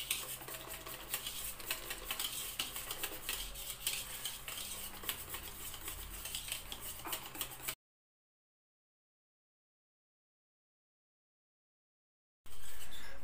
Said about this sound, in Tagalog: So, haluin lang po natin ng maigi.